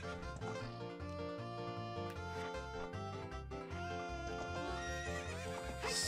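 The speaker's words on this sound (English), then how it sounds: "Sweet! I have a horse" A horse neighs and whinnies in the Ocarina Hero video game, heard over a dense bed of continuous game music that fills the whole stretch.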